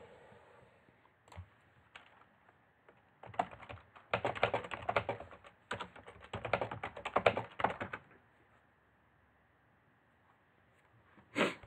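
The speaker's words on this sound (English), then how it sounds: "I'll just maybe type a note back for you." Typing a chat reply on a computer keyboard, a quiet start with a few isolated taps, then a dense close burst of keystrokes lasting several seconds before fading back to near silence.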